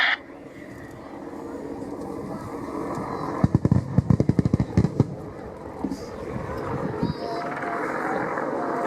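A rapid burst of helicopter gun fire at an air show display at RNAS Yeovilton, a loud staccato rattle of shots lasting about two seconds, followed by a few scattered bangs over steady rotor and engine noise.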